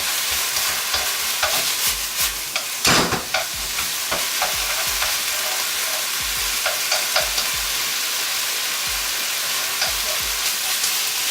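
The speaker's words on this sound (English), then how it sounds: "If you stir fry quickly, and the vegetables here will lose its crispiness and freshness." Beef bulgogi and vegetables sizzle and crackle steadily in a hot pan while being stir fried, with loud, continuous frying noise and scattered scraping or clattering stirring strokes throughout, and no talking.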